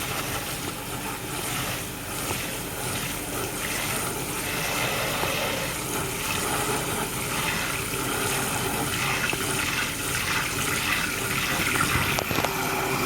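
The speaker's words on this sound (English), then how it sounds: "I'm washing the grits off." Running water pours and gushes steadily into a pot of grits being rinsed, a loud, continuous splashing wash up close with no talk.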